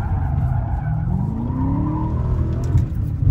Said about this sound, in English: Oh my god, this car is amazing to drift.